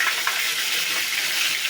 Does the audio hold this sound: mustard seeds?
yes